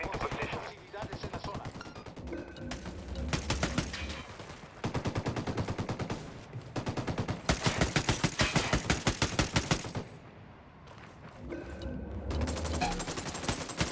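Rapid automatic gunfire in Ghost Recon Wildlands comes in several long, loud bursts separated by short pauses, with a voice speaking in between.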